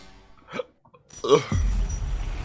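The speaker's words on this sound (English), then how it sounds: "I'm getting hiccups, dude." A single sharp hiccup from a man near the microphone, followed by low steady background noise.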